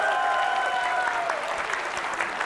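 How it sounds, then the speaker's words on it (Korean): A crowd at a Korean talk concert lecture gives warm, continuous applause, many hands clapping in a dense, even patter with a faint tonal hum underneath. "뜨거운 박수를 보내주시면 될 것 같습니다"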